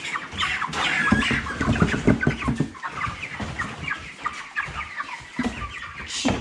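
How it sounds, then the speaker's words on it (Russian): Ross 308 broiler chickens about thirty days old cluck and squawk close by on a farm, a busy stream of short, overlapping calls with no one talking. "Вот курочка."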